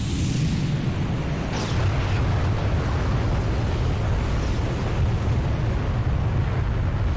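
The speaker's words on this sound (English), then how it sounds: "Big explosion." A massive explosion erupts as a god dies in the final boss battle of The Legend of Dragoon, a loud, sustained rumbling roar that fills the scene without pause.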